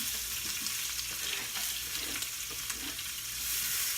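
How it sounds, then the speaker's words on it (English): Chopped onions fry in bacon grease in a pan, giving a steady, close, broadband sizzle that runs without a break, with a low hum underneath and no voices. "So first you put your chopped onions in."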